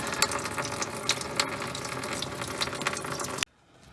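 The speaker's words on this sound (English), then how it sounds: "we got most of the radiator coolant drained" Radiator coolant draining from a Ford 6.0 diesel, a steady close splashing and trickling stream of liquid that runs continuously for several seconds, then cuts off abruptly near the end.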